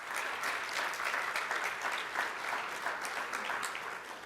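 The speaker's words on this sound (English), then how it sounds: "So round of applause." A large audience at a community fundraising celebration applauds in a sustained, even wash of clapping from many hands, heard from a distance at a fairly soft level and lasting several seconds without speech.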